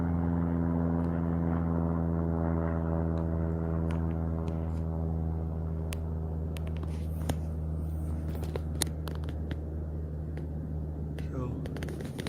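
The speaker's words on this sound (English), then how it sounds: "That's a plane flying by." An airplane passes overhead, making a faint, steady droning hum that slowly fades over about twelve seconds, broken by scattered light clicks and taps nearby.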